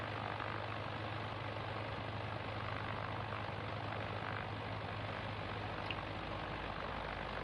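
In a flight simulator video game on PS5, a cargo delivery aircraft flies at night with a constant, even engine drone. The hum is low and steady throughout, with no speech over it.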